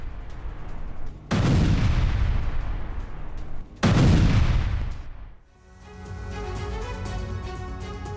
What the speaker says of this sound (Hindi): कैसे एक रॉकेट आकर गिरता है और उसके बाद धमाके के बाद ये पूरा इलाका मलबे में तब्दील हो जाता है